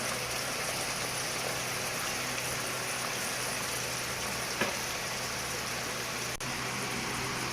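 Chicken liver frying in a hot pan for a chilli liver fry, giving a steady, dense sizzle that runs evenly throughout with one small pop partway through.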